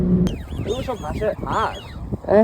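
Ducks and migratory birds call at a feeding spot, a string of quacking, honking cries close by that overlap one another, with people talking over them.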